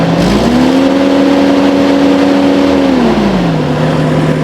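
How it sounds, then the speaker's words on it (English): A Kubota tractor engine runs steadily and loudly, its tone rising briefly in pitch as it revs up, holding, then settling back down to a smooth idle, with no talking. "now I go and try my Kubota again just to show you guys what's happening"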